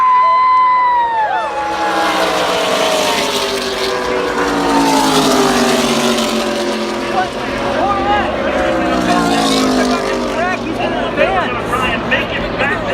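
NASCAR trucks race past at Talladega, a continuous loud roar of engines with rising and falling whines and doppler sweeps, with a crowd murmur and voices talking over it.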